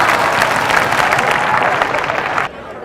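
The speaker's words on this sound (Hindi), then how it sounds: "उठ गया, तालियां" A crowd at a hands-only CPR training session claps in a thick, continuous wash of applause that holds steady before cutting off abruptly near the end, leaving quieter room noise.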